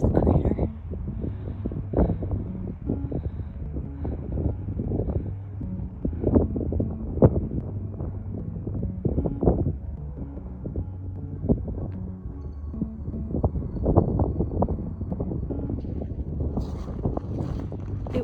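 Strong wind at Craters of the Moon buffets the microphone with a heavy, continuous low rumble and gusting roar for the whole stretch.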